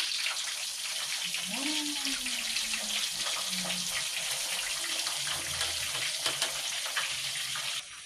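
Tilapia pieces frying in hot cooking oil, a steady loud hiss and sizzle throughout, with a voice speaking briefly over it.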